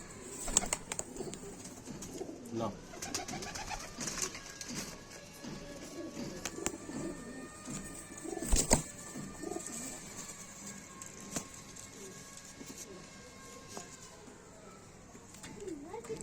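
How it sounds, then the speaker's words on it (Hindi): Kaldume pigeons coo at a home loft, giving soft, low, repeated rolling calls at moderate distance, mixed with faint chirps, wing flutters, and a brief spoken word. "ये जोड़बंदी के कबूतर हैं, इनके पट्टे उड़ रहे हैं।"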